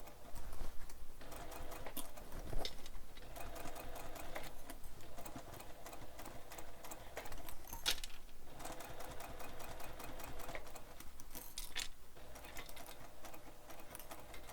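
A sewing machine stitching slowly around a curve on a handbag, a fast even run of needle ticks with brief pauses and restarts, close and fairly quiet.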